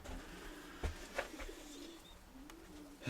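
Soft, low cooing from a pigeon repeats a few times at moderate distance over faint background noise. There is no talking.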